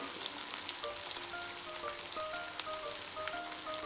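Potato pieces sizzle and crackle steadily in hot ghee, a dense close frying hiss with fine popping spatters throughout and no voices.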